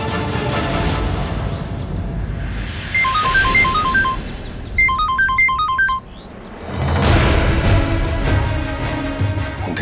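A phone ringtone plays a short melodic pattern twice, surrounded by loud dramatic background music and rumbling noise.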